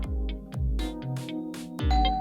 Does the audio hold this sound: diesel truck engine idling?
no